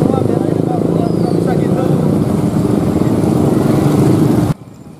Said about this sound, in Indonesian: Seperti atraksi mengendarai motor dari berbagai klub dan komunitas menarik perhatian para peserta